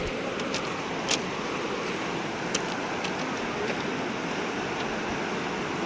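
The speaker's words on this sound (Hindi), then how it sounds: "बहाव बहुत तेज है पानी का" Flood water of the Rapti River rushes fast and steadily in a broad roar, continuous throughout, with a couple of faint clicks and no voices.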